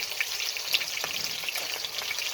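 Semolina-coated fish fries in a pan on a tin stove, a dense, steady close-up sizzle with fine crackling pops throughout.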